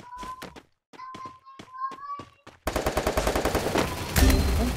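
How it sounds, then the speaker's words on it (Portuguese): Brief talking gives way to loud, rapid automatic gunfire in quick repeated bursts, ending in a heavier blast. "Olha o tiro, Diego."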